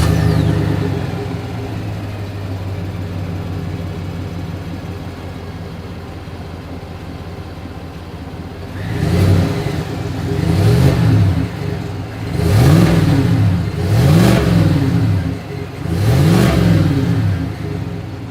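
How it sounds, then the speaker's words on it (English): A 2021 Chevrolet Tahoe exhaust idles low and steady, then four throaty revs rise and fall in quick succession, heard close up. "here is that exhaust clip."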